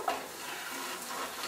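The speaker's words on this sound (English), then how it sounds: "Here on the fry pan, I have onions, 3 tablespoons of olive oil, and now I'm going to put in about 4 garlic" Garlic sautéing with onions in olive oil in a fry pan gives a soft, steady sizzle with faint stirring scrapes, close and continuous for a moment without any voices.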